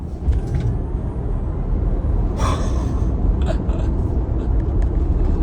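A Tesla Model Y accelerates hard, giving a steady, loud low rumble of road and cabin noise throughout, with a sharp breathy gasp-like burst near the middle and faint scattered noises later.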